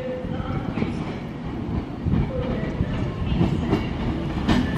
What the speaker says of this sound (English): As here comes a Avanti West Coast, work service from Manchester